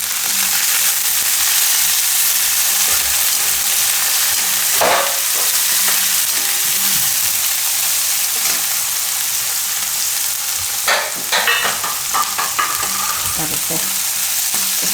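Green garlic fries in hot oil in a pan with red chillies and turmeric, making a steady loud sizzle. Occasional scraping stirs and crackles break through near the end, with no talk.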